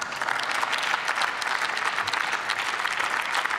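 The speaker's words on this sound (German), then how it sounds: "Applaus" Steady applause fills a German Bundestag chamber after a speech on education policy, dense continuous clapping from many hands at a constant level with no voices.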